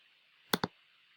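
A computer mouse gives a crisp double click, two sharp close taps in quick succession over a faint steady hum.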